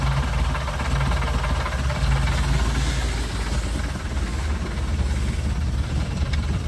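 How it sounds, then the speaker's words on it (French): A boat's inboard V6 3-litre engine runs at a steady idle, a loud, even, low rumble with constant vibration and no talk over it. "moteur inboard, V6 3 litres"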